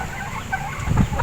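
Hens clucking inside coops at a rural Filipino backyard poultry yard, a few close, soft clucks and low throaty calls rising toward the end with no talking.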